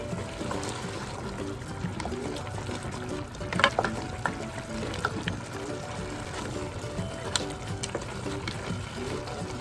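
Mutton karahi cooks over a high flame while its liquid boils down, giving a steady bubbling sizzle with occasional stirring clinks from a spoon against the pan.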